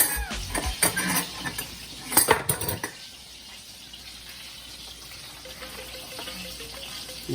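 A metal spoon knocking and scraping in a cooking pot of oxtail, several sharp clinks early on, then a quieter bubbling simmer.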